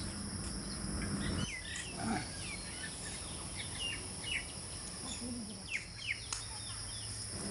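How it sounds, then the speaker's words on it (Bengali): Small birds chirp and twitter in scattered short calls around a village on a breezy morning, with a steady insect-like drone underneath and a soft low rumble early on; the calls sit at moderate distance and stay fairly faint. "পাখির কিচিরমিচির ডাক আর বিশুদ্ধ বাতাস"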